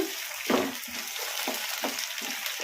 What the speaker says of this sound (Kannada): ಟಮಟ ಚೆನ್ನಾಗಿ ಮೆತ್ತಗಾಗೋವರೆಗೂ ಫ್ರೈ ಮಾಡ್ಕೊಂಬಿಡೋಣ ಈ ಥರ ಕಲಿಸ್ಕೊಂತ ಮೀಡಿಯಮ್ ಫ್ಲೇಮಲ್ಲಿ